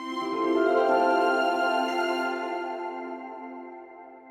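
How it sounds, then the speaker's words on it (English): A short, simple victory theme composed for a video game rings out as sustained harmonic chords that swell, then fade slowly over several seconds, with no voices. "And last up we have the victory theme,"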